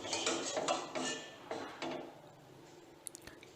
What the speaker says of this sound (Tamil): இதை நல்லா கிளறி விட்டுடுங்க, ஒரு கொதி வரட்டும்